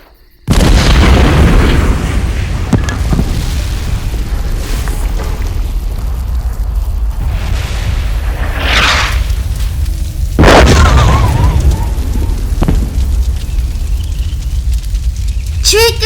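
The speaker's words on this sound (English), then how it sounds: "Here comes the Vault 69 artillery shells" Artillery shells from Vault 69 in Fallout 76 detonate in a loud roaring blast that starts abruptly, with further booms and crackling debris following over several seconds, alongside talk.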